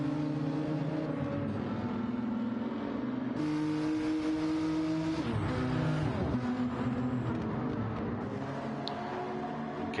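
Group 4 GTR race car engine in a Gran Turismo 7 race, a steady loud drone that shifts pitch through gear changes and revs, with other cars' engines layered in throughout.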